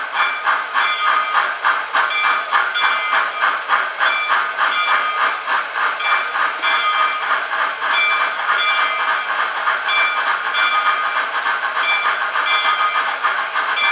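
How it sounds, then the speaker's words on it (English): A model steam locomotive on a rolling track display stand, set to heavy chuff while climbing a grade, gives a steady, loud, even beat of hissy chuffs that carries on without a break and with no voices. "Put it into heavy chuff mode. I'm climbing the grade."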